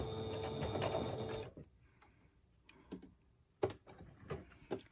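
A sewing machine runs a tight zigzag stitch around a pocket, whirring steadily and close for about a second and a half, then falls to scattered clicks and short mechanical taps.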